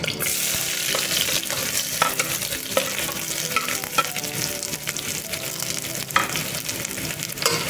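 Onion fries in hot oil with bay leaf at the start of a mutton leg soup. A busy, crackling sizzle runs throughout, broken by frequent clinks and scrapes of a spoon stirring in the pot, close and fairly loud with no speech.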